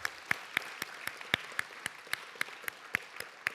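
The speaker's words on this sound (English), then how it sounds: "We can give them a round of applause." Teachers at a creative writing senior reading are greeted by a small audience clapping: sparse, evenly spaced claps, quiet and slightly distant, with no voices.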